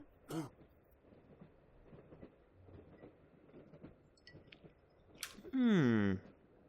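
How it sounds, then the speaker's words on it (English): Character coughing in The Last Door video game, a short harsh burst early on and then a louder, longer rasping cough near the end, over quiet ambience. "He's coughing."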